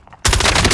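Automatic gunfire from Call of Duty: Modern Warfare bursts in abruptly after faint background sound, a loud rapid stream of close shots firing in a tight rhythm to the end.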